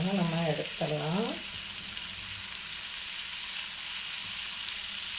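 Boondi for motichoor laddu frying in hot oil, a continuous close hiss and bubbling crackle that holds steady throughout, with a brief voice sounding over it at the start.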